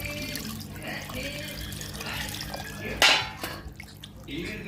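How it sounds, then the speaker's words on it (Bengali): Water is poured into a pot of beef mixed with spices and oil, arriving as a short splashing gush after quieter drips and liquid sounds, close and moderately loud. "পরিমাণ মতো একটা পানি দিয়ে দেবো যাতে আমার মাংসটা সিদ্ধ হয়"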